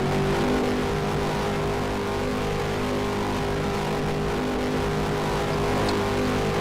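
A ROX modified race car with an 850-horsepower engine drones steadily at a race track, its sustained roar continuous and fairly loud throughout, with no voices on top.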